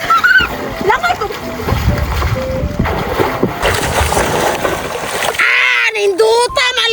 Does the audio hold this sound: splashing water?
yes